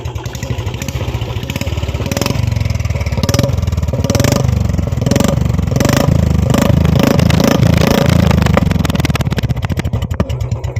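A Royal Enfield Bullet 350 with a modified silencer runs loud and close. Its engine thumps in a steady, rapid beat with rises in revs, continuing for several seconds.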